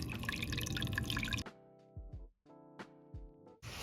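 Water trickles and drips onto a plant cutting being watered from the bottom, a few short close drips and splashes after a burst of running water, with quiet gaps between.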